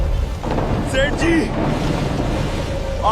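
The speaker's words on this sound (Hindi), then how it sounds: "बचाओ, बचाओ, लहर आ रही है।" Dramatized storm at sea with waves hitting a boat, a dense roaring wash of water and wind that stays loud throughout, with brief shouting voices over it.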